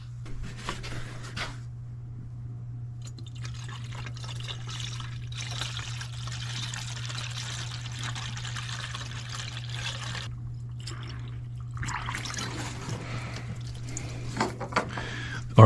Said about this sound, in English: now I'm gonna put coolant in the cooling system